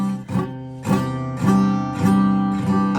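A cheap acoustic guitar is strummed through a run of chords that sound poorly fretted and muddy, about one strum every half second, close and alone.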